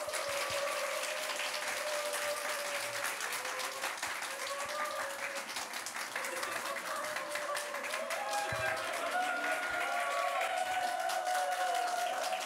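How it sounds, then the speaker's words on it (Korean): Church congregation applauding to welcome a preacher to the pulpit at a Sunday service: steady, sustained clapping from many hands fills the room, with some voices mixed in. "우리 전사님 나오실 때 박수로 환영할까요?"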